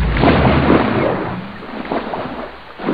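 The newer water splash sound effect from Microsoft Flight Simulator 4: a heavy, rumbling splash hitting a surface, loud at first, then tapering into a churning wash with a brief swell near the end.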